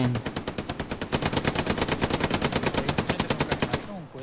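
Rapid, loud, evenly spaced MP40 submachine gun fire in Hell Let Loose keeps up a continuous automatic burst for about four seconds, then ends in a brief echoing tail.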